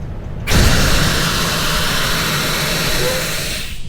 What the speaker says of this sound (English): if you push in, it is going to release air through the Parker quick release valve